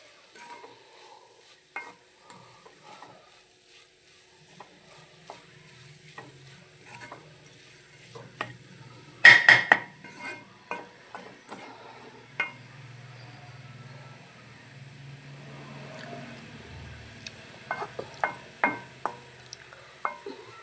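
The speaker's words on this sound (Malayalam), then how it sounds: "ഉള്ളി മഞ്ഞപ്പൊടിയും കൂടി ഇട്ടിട്ട് ഇളക്കി കൊടുക്കട്ടെ" Onions and turmeric powder are stirred and fried in a pan, giving soft scraping and light sizzling, with a burst of spoon clatter midway and scattered taps near the end, close and fairly quiet.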